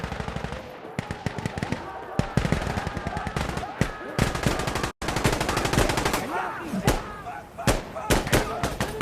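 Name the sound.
machine gun fire in video game Insurgency: Sandstorm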